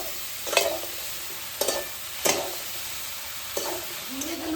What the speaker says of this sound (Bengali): দিয়ে মশলার সাথে ঝিঙেগুলোকে মিশিয়ে দেব।